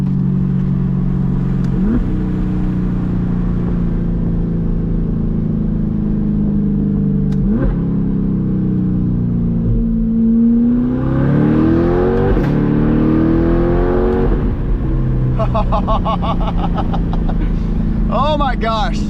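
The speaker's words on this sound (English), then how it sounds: "the little clapping sound in between the shifts. Gotta love a DCT" A C8 Corvette with a titanium exhaust and dual-clutch transmission drones steadily from inside the cabin, its pitch climbing and dropping at each quick gear change. Light crackling pops follow the later shifts.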